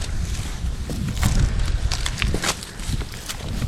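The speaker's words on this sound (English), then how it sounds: "we got some wind today" Gusty wind buffets the microphone outdoors by rocky water, with rumbling low gusts and scattered knocks and footsteps nearby.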